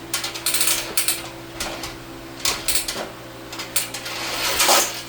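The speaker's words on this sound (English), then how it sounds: "You hear the clicks. That's how it locks in place." A part on a Giraffe Tools Grandfalls electric pressure washer clicks as it locks into place, giving a series of sharp, close clicks in irregular bursts over a steady low hum.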